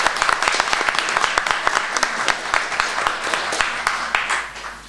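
Audience applause at a political congress in Poland fills the hall, a dense burst of many hands clapping that holds steady and then begins to thin toward the end.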